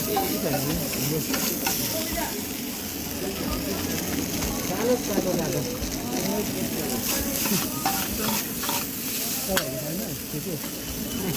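Chicken fries in hot oil in a Darjeeling kitchen with a steady, close sizzle and hiss, stirred now and then, while people talk faintly in the background.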